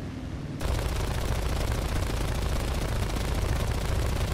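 Sustained machine-gun fire in the War Thunder video game begins abruptly after a brief quiet moment, then continues as a loud, dense, rapid stream of shots to the end, with no talking.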